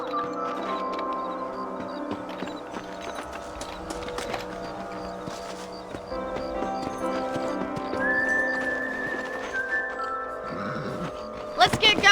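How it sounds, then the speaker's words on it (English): Horses clip-clop along in the Red Dead Redemption video game over layered music and ambience, with a whinny and some dialogue, ending in a louder burst near the close. "Let's get back on the horses and see what else is going on."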